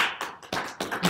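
A small group at a Utah Python meetup session claps in a few separate, uneven bursts, short and close, with pauses between them.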